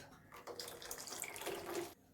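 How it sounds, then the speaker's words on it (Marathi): Water poured into a mixer jar while making a thick mixture for pomfret curry, a short soft splashing trickle that rises and then stops abruptly, heard close and alone. "पाणी ओतूया हे घट्ट आहे अजून थोडंसं पाणी ओतूया आपण त्याच्यात"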